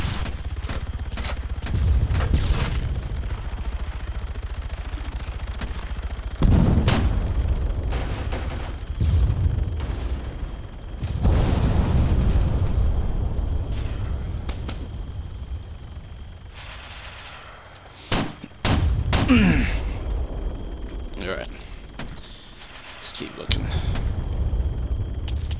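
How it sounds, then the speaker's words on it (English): Gunfire in the game Arma 3, repeated cracks and booming shots at varying distances, some distant and rumbling, others sharp and close, with someone talking over parts of it. "I have no idea where these shots are coming from, but they sound like they're coming from behind me"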